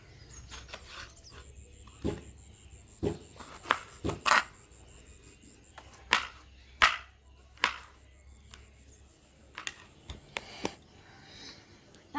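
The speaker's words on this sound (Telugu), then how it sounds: "ముందైతే అన్నం పోయిన పెట్టి కూరగాయలు కట్ చేసుకుంటున్నానండి" Vegetables, tomatoes among them, being chopped with a knife on a board in a home kitchen: a dozen or so sharp, uneven knocks spaced out over a quiet background, close and clear.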